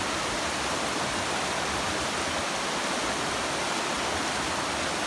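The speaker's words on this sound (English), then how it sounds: "All converging at this bridge to make one big creek going down." Noland Creek rushes beneath a bridge where several streams converge, a steady broad wash of flowing water, loud and continuous with no voices.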